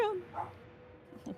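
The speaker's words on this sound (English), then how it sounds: "now my dog's he just hyped up" A pet dog gives a quick excited yelp and a short whimpering bark at the start, then a couple of faint yips trail off.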